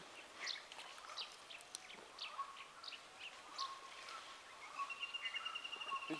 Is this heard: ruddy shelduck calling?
yes